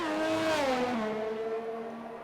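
Race car engines scream steadily on track in a Belgian Grand Prix racing video game, a loud onboard whine sliding down in pitch as the car lifts and holds on, with no talk over it.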